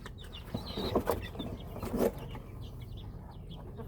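Chickens and young chicks are moved to a new pen and give soft clucks and faint peeping chirps, close but quiet over steady background noise.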